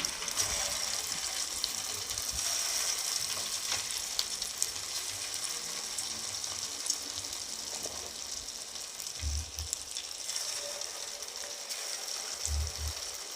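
Bondas (punugulu) deep frying in hot oil, a steady dense sizzle and crackle that runs throughout at an even level, with a few low bumps from the pan or ladle.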